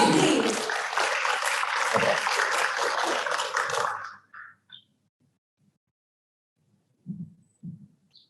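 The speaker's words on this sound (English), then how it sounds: "with a big round of applause, please welcome Mr. Pujiyono" An audience at the International Conference for Democracy and National Resilience applauds to welcome a speaker, a dense burst of clapping for about four seconds that cuts off into near silence with a few faint sounds after.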